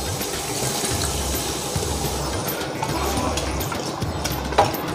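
Water is poured into chicken masala cooking in a pan for biryani, a continuous gushing, bubbling splash of moderate loudness with a faint clink near the end.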